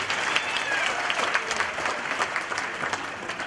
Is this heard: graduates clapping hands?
yes